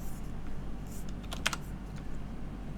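Faint, sparse keystrokes on a computer keyboard, a short cluster of clicks in the middle over a low background hum.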